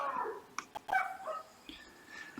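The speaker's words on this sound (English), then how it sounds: "There's a dog making sounds outside." A dog barks and whimpers outdoors, giving a few sharp yips and whines in quick bursts, heard at moderate distance with no talk over it.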